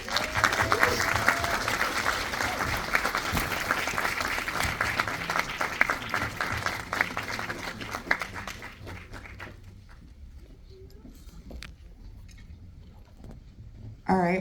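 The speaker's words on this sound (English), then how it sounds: "Another round of applause." Film festival audience applause, dense and sustained for about eight seconds, then thinning to scattered claps and quiet room noise with faint voices.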